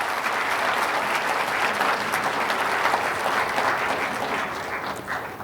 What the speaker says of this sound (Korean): 다시 한번 수고해 주신 원스 체인버 뮤직 오케스트라에게 큰 박수 보내주시면 감사하겠습니다